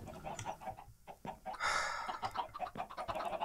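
Chickens in the Minecraft video game cluck repeatedly in short, nearby bursts, with one louder, longer squawk partway through, sounding busy and close.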